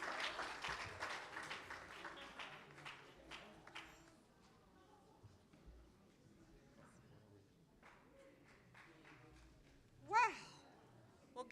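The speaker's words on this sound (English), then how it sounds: "Give it up one more round of applause for all of the folks, everyone who got awards tonight." Audience at an East Bay church Black History celebration applauds the Bayard Award winners: dense, fairly quiet clapping fills the first few seconds and thins out, followed by quieter murmur and a brief sharp sound near the end.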